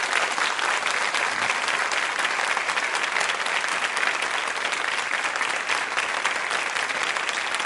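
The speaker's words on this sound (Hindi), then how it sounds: "तो जोरदार तालियां बजाइए इस संकल्प के लिए" Sustained applause from a large audience at a quiz show, steady and loud throughout with no pauses.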